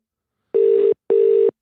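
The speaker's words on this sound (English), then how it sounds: "I better make sure I don't misdial" Two evenly spaced steady tones from a telephone line, each lasting under half a second with a short gap between them, loud and clean against silence, like a ringback signal on an outgoing call.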